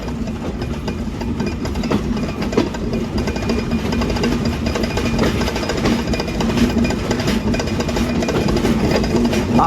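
Rupsha Express passenger train with Indonesian INKA coaches getting under way from a station stop in Bangladesh: a steady low engine rumble and drone with rattling carriage noise, continuous and fairly loud throughout, no talk.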